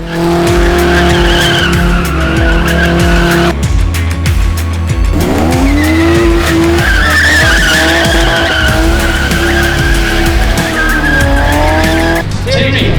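A race car spins around at a racing event after a Christmas parade, its tires squealing loudly in long skids over a roaring, revving engine, with a crowd and voices underneath, very loud and close.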